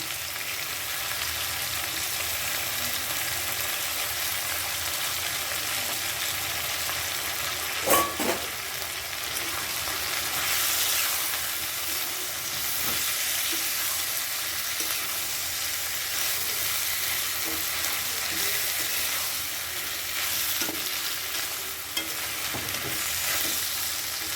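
Ground paste of green chilli, tomato, garam masala, ginger and asafoetida fries in a pan for jackfruit curry, a steady, fairly quiet sizzle with occasional stirring scrapes and a brief clink near the middle, no voices.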